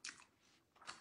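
Close, quiet chewing and crunching while eating menudo, two short bursts of wet mouth sounds with a pause between, no talk.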